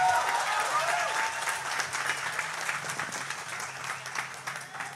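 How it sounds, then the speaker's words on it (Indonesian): A studio audience claps together during a political talk program, a steady crowd of hands ringing out loudly at first and easing slightly, with faint voices underneath. "Ya tepuk tangan kita semuanya."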